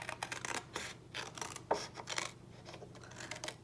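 Scissors snip through craft paper along a score line in a series of short, close rasping cuts with brief pauses, quiet and without talk.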